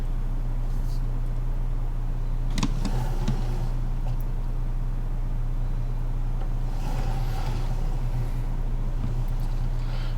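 A small yellow tractor engine from Farming Simulator 19 holds a steady, loud low drone with a constant hum. It runs without a break, with a few faint clicks and knocks on top and no one speaking.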